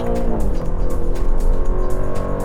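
A 2025 Aston Martin Vantage with ceramic brakes roars loudly at speed, its engine pitch dropping as it brakes hard, with a steady rumble and faint tire noise throughout.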